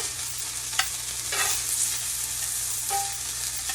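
Chicken wings sear in a cast iron pan. A soft, continuous sizzle runs throughout, with a few brief scraping stir sounds from close by and no talking.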